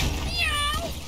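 A person imitates a cat with a single drawn-out, rising then falling meow, close and clear over faint background noise.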